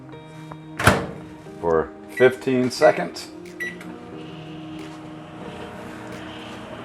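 A microwave oven door thunks shut and keypad beeps and clunks follow as a hot ham and cheese sandwich goes in, then the oven settles into a faint steady hum, with a person speaking briefly near the start.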